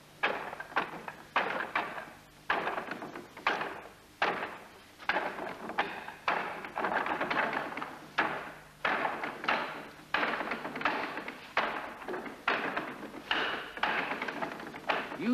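Hard blows land on a wooden Wing Chun training dummy in a hung gar kung fu session: a steady run of loud, sharp thuds and knocks, often in quick pairs and triplets, with no talking.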